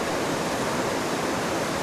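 Water pours in a steady, broadband rush of a waterfall seen from shallow water among rocks, loud and unbroken throughout with no voices.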